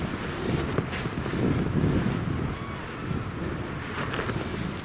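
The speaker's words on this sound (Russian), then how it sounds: "Но с этой лесосеки ветер дует." Strong wind blowing across a logged forest clearing in winter, a continuous roaring rush buffeting the microphone, with faint crunching footsteps underneath.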